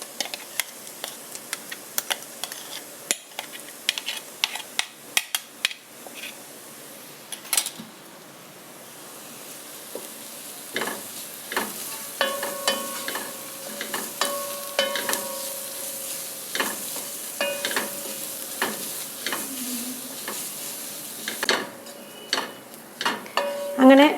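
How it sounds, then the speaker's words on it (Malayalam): A paste of ground mint and coriander leaves is sautéed and stirred in a pan: repeated sharp scraping knocks of a spoon against the pan over a low sizzle, close and irregular, with short pauses. "ഇതിൻ്റെ പച്ചമണം മാറുന്നവരെ ഒന്ന് വഴറ്റണം."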